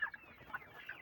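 Andijan black chickens give a few faint, short clucks at a distance, spaced out over about a second.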